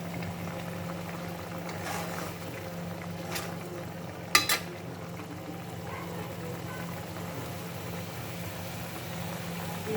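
Hilsa fish in mustard sauce bubbles gently in a pan with a steady low simmer and faint sizzle, broken by a couple of brief clinks from a utensil.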